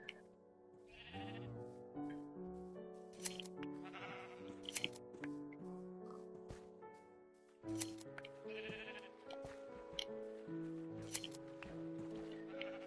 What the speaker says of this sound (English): start shearing all these sheep that we have